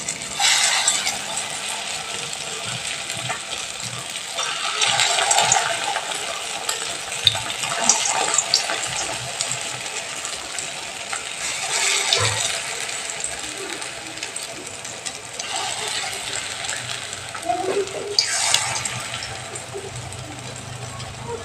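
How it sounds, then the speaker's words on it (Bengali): Lentil fritters (musur dal bora) sizzling in hot oil in a wok, a steady crackling fry with bursts of spattering, continuing without talk. "পরের বড়াগুলো এবার আমি তেলের মধ্যে দিয়ে দিচ্ছি ভাজার জন্য।"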